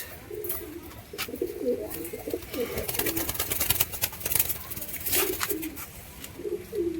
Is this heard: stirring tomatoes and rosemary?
no